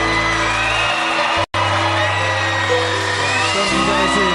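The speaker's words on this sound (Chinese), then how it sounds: "现场的朋友们，再来一次疯狂热情掌声鼓励" A live concert audience at a classic Chinese pop song show cheers and whoops loudly, a dense continuous crowd roar with a brief cut near the middle before the noise resumes.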